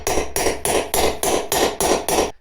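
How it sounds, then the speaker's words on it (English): A hammer strikes a socket to drive a bearing race into a trailer wheel hub, with about seven loud, evenly spaced metallic blows close by and no talking. "So you position your socket and just start hammering it in."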